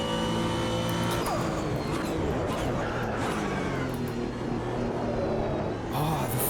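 GT1 race car engine in the sim racing game Automobilista 2, droning and shifting pitch as it revs up and down through gears, loud and continuous, with brief tire or transmission whines.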